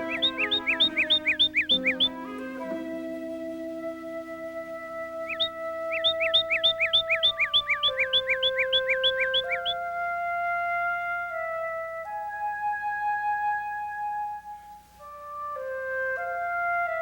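Birds, ducks and chickens call before a storm in a pastoral setting: repeated bright chirping bursts in two runs, followed by steadier whistling and quacking tones that carry on continuously at moderate loudness.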